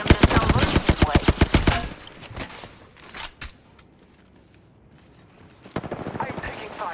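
Rapid automatic gunfire in Apex Legends, a loud tight burst of evenly spaced shots at the start, followed by a few scattered isolated shots and mechanical clicks, then another burst near the end.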